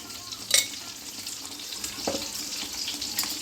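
Tomato chutney seasoned with salt and turmeric sizzles softly in a pan, a low steady bubbling hiss with a few sharp scraping stirs and clinks of a spoon, nearby and without talk.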